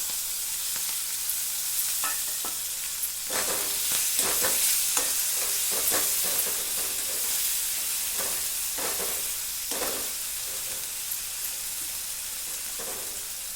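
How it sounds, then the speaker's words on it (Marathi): Chopped tomatoes fry in oil in a pan for a vegetable bhaji, giving a continuous hiss and sizzle with scattered sharp clicks and scrapes from stirring, close-up and without speech. "टमाटर मस्त तेलात होऊ द्यायचं, छानपैकी शिजू द्यायचं तेलात."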